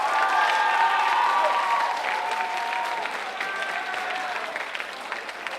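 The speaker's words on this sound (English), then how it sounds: "If you believe that Ms. Greenswag, arguing in favor of nurture," An audience applauds a contestant at a Write Club debate during a Writers Week event, with sustained crowd clapping and a few raised voices or whoops mixed in, gradually easing off over several seconds.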